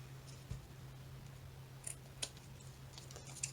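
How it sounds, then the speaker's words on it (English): Scissors trim excess book paper in several quick, crisp snips, faint and close against a low steady hum, with no talking. "So I'm just going to trim off the excess"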